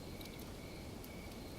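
Crickets chirp at night in a steady, faint, high trill across the whole stretch, with no other sounds or voices.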